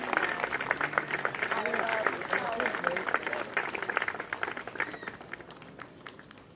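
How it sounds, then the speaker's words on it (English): Audience applause at a concours d'elegance car show, scattered clapping from an outdoor crowd that is fairly lively at first and then tapers off, with voices talking over it. "Give him a big round of applause."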